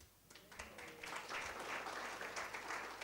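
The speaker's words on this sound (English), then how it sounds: "Kindly do not applaud" An audience at a coaching and transformation event breaks into applause, starting softly and swelling into steady clapping that carries through to the end, with a faint voice underneath.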